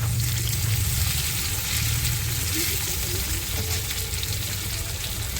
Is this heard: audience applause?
no